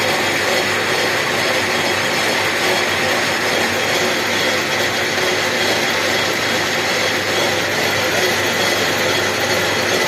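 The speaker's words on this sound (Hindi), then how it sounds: "थोड़ा सा मेरी मशीन में प्रॉब्लम आ गई है, इसका एक गियर ख़राब हो गया है जिसकी वजह से आवाज़ आ रही है" A machine with a faulty gear runs at maximum speed, giving a loud, constant, grinding mechanical roar that fills the whole stretch without pause, harsh and close.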